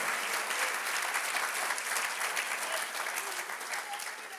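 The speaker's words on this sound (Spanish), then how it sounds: "Dele fuerte ese aplauso al Señor." A church congregation claps in praise, a dense, steady wash of applause held for several seconds at even strength and tailing off slightly at the end.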